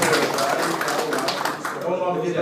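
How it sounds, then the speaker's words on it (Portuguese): Clapping from the crowd at a public hearing of the Maringá union about meatpacking plants, a short burst of hand claps honoring a doctor, mixed with voices and fairly close. "Essas palmas para esse médico"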